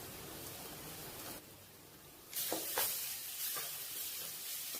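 Soft sizzling of ginger garlic paste frying in a pan, fairly quiet, growing a little brighter midway as the paste is stirred around.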